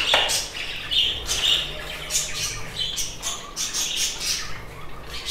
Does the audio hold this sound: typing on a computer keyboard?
no